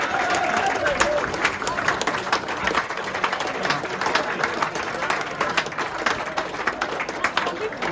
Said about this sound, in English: Can we start with a big round of applause for the players and officials from Harrogate